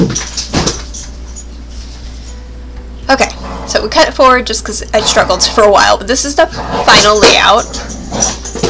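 A dog whimpers in a small bedroom while a person talks, its soft whines mixed in and partly masked under the steady speech.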